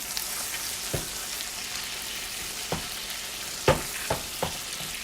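Steak sizzles steadily in a hot pan as it is basted, a broad hiss running throughout with several sharp clinks and spoon taps scattered through, the loudest near the end; no one speaks.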